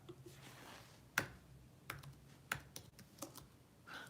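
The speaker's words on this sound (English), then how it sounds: "Me and my typing." Typing on a computer keyboard comes through as scattered, quiet key clicks close by, with irregular taps and pauses over a faint room hum.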